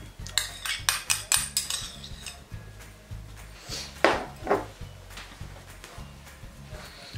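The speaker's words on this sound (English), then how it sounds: "I'm gonna go in with 5 tablespoons of natural yogurt" Natural yogurt being spooned into a lamb marinade in a bowl, with a run of clinking metal spoon taps against the bowl, a few louder knocks, and softer scraping in between.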